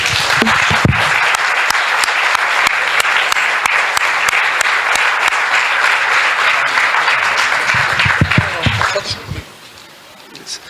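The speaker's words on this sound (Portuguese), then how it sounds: "Vamos aplaudir o Senhor." Loud, dense applause from a large church congregation fills the room for several seconds, then tapers off into quieter scattered claps.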